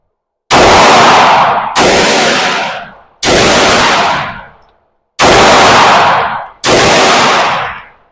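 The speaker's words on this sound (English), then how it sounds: "Now I'm shooting at number 2 there." Five loud 9mm pistol shots from a Glock 19X at an outdoor range, spaced at roughly even intervals, each a sharp close blast with a long ringing decay.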